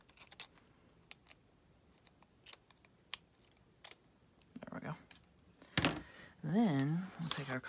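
Scissors cutting newspaper for a collage: a series of sharp snipping clicks, close and quiet, followed by a person speaking near the end.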